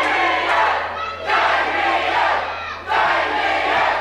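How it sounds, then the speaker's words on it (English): A wrestling crowd at a live match roars and cheers loudly in sustained waves, with brief dips between the surges and no clear single voice standing out. "This crowd loving every second,"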